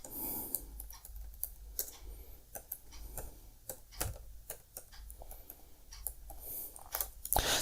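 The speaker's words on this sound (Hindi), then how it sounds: "तो मैं यहाँ पे मैनुअल कॉन्टैक्ट नंबर डाल सकता हूँ या फिर टाइप कर सकता हूँ।" Typing contact numbers on a computer keyboard: quick, irregular clicks and taps close to the microphone, with short pauses and no talking.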